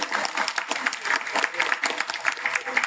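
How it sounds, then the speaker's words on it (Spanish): Clapping from a book-fair audience at a novel presentation, a brisk, fairly close patter of many hands sustained throughout with no one speaking over it. "Un aplauso por ustedes"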